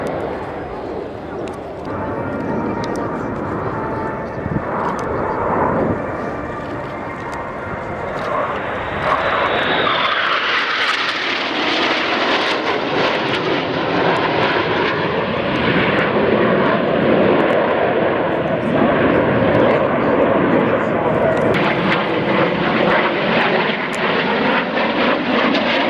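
Aircraft fly a close box formation display at the RIAT 2014 airshow, engines droning loudly and then swelling into a sustained roar as they pass, with an announcer speaking over the noise.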